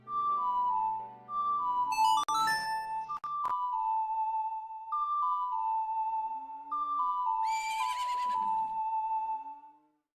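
A melodic synthesized tune plays with stepping tones, broken by short electronic jingles and a sparkly chime; no clear natural neigh, sounds game-like. Ocarina-triggered horse call for Epona, a filly, in a video game.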